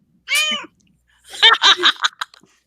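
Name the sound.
cat meowing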